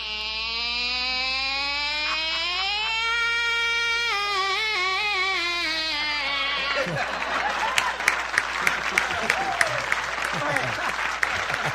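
Sharp claps begin partway through, sparse and fairly regular, after a long wavering tone that bends in pitch; the claps ring out close and loud.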